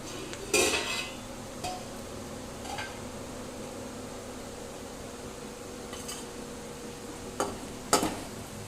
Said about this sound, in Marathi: हा भात सगळा मी त्यात घालते आणि पुन्हा एकदा एकत्र करून घेतो